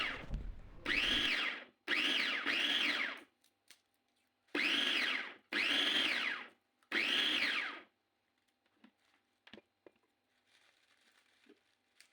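A food chopper whirs through washed tomatoes in five short, loud bursts of about a second each, close up, followed by faint clatter and quiet handling.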